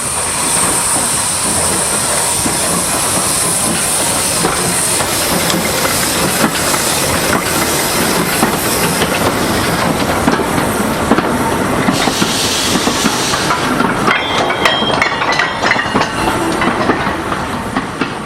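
Peckett 0-4-0 steam locomotive hauling a demonstration freight train at Washford, a steady rolling rumble with clattering wagon wheels and hiss, sustained and fairly loud throughout.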